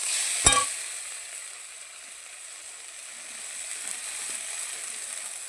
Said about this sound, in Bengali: আদা বাটা দিয়ে দিচ্ছি, দিয়ে ভালো করে কষিয়ে নেব।